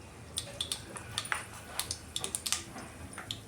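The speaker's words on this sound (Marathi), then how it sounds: "मोहरी तडतडली." Mustard seeds crackle in hot oil in a pan, just emptied of fried peanuts, while making Maharashtrian kande pohe: sparse, sharp little pops scattered irregularly over a faint, steady sizzle.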